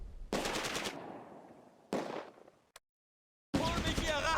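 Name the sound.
tanks opening fire in Close Combat video game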